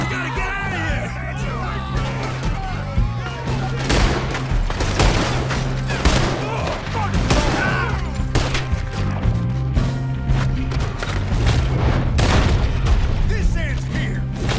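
Gunfire from the video game Red Dead Redemption 2, a dense run of shots and booms throughout, mixed with a game music bed and shouted voices over the top.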